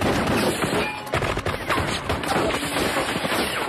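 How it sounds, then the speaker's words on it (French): A gang riddles a house with bullets in an action film shootout: loud, rapid automatic gunfire in dense bursts, sustained throughout with sharp individual cracks. "En criblant la baraque de balles."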